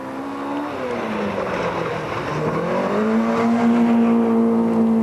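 Car number 4 in the 1988 KEC rally pulls away at the start of a special stage, its engine droning loud and close and then rising steadily in pitch as it accelerates; no voices.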